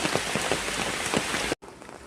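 Heavy rain pounds a surface in a loud, dense patter, then cuts off abruptly and resumes more quietly.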